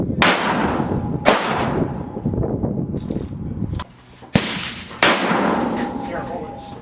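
Savage 10FCP .308 bolt-action rifle with a McMillan stock fired outdoors, several loud sharp reports spaced a second or more apart, each with a ringing decay and brief quiet gaps between.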